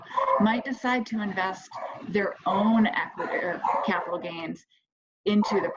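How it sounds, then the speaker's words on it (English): A pet dog barks and yips in short bursts in the background of a home, partly masked by a continuous speaking voice. "I apologize for my dog barking."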